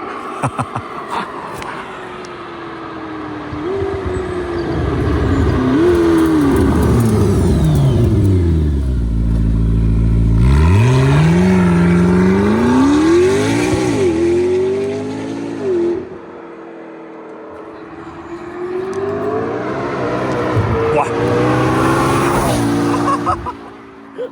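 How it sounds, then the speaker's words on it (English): A McLaren P1 supercar screams past at high speed with heavy wheel spin, its engine note rising and swooping loudly through gear changes, tires squealing, then fading and surging again as it pulls away. "That was like in third gear probably. Insane wheel spin."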